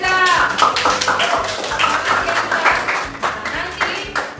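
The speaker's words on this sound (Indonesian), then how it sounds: "Nah, tepuk tangan dari Lisa." A classroom of students clapping for a pupil, a dense burst of handclaps that stays lively throughout, with voices singing or chanting over it.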